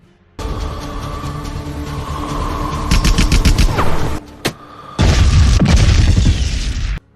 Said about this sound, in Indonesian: bom tersebut dengan tepat meledakkan mobil yang membawa senjata biokimia